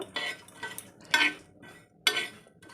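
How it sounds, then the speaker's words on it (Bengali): Spice mix being fried for a homemade biryani is stirred in a pan, with several sharp, close metallic scrapes and clinks of a spoon in an uneven rhythm and short quiet gaps between them. "এখানে ওই মশলাটা ভাজছি"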